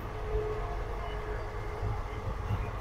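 The Kalka Mail passenger train running, heard from inside as a steady low rumble and rattle of the carriage with a faint whining tone, continuous and fairly loud, no talk.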